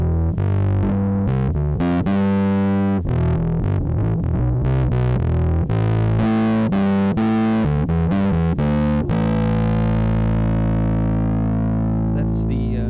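Bass guitar (a P-bass) played through a 3xFx Fatman distortion effect, gritty sustained notes and short phrases, ending with a long ringing note that fades out.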